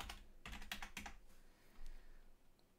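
Quiet keys being typed on a computer keyboard, a quick burst of several clicks near the start and a few scattered taps after, close and faint with no talk.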